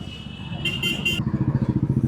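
A Royal Enfield Bullet motorcycle pulls in close by, its low, steady thump rising into a loud rhythmic beat toward the end, with a brief horn-like tone near the start.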